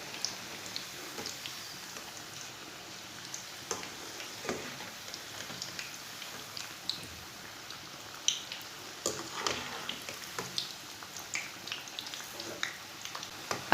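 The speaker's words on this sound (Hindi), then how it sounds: "पकोड़े को ना 2 मिनट तक पकने देना, बाद में इसे उल्टाना।" Pakistani-style pakoras fry in hot oil with a steady crackling bubble and scattered sharp pops, moderately loud and close, with no talking.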